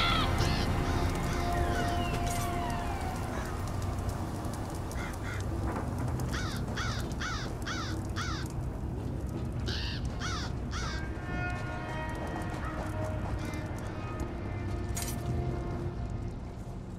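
Crows caw repeatedly in a fantasy video game set around a court of crows, a run of harsh calls clustered in the middle over a steady ambient background with light music.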